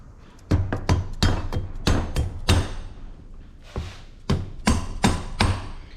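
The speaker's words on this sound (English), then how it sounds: "I'm going to whack them with a hammer" A hammer strikes the valves in the cylinder head of a Honda ATC top end, giving about a dozen sharp, close metallic knocks in an uneven rhythm with short pauses.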